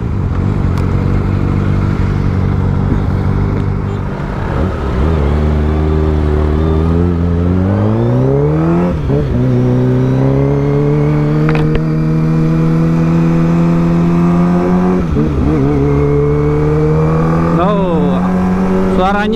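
A Kawasaki ZX25R motorcycle engine with newly replaced spark plugs revs repeatedly, pitch climbing and dropping between throttle blips over a steady rumbling idle, loud and close throughout.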